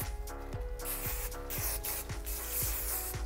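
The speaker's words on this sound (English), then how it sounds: "Give it a really good hairspray." Hairspray misted onto styled curls, a steady hiss of repeated spray bursts running close and fairly loud over a soft rhythmic background beat.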